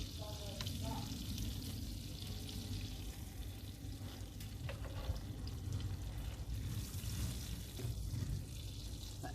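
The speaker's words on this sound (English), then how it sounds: "we're going to cook the apple for about 4 minutes until we are the apple slices are just nicely browned on both sides" Apple slices frying in a pan during van cooking, giving a continuous close sizzle and crackle that stays steady throughout, with occasional faint clinks.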